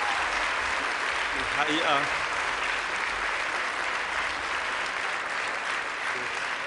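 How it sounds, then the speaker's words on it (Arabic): An awards-ceremony audience gives Minister Ziad Baroud steady, sustained applause, a dense clapping wash throughout with someone speaking over it. "هالزقفة بتشهد على مدى الشعبية وحب الجمهور والشعب اللبناني للوزير بارود"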